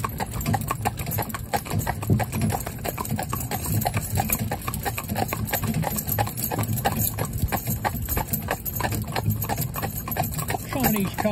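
A driving stallion's hooves clip-clop on a road in a steady, regular rhythm, close and continuous as it passes loose mares, with a voice talking over the hoofbeats.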